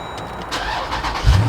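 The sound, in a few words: V8 engine starting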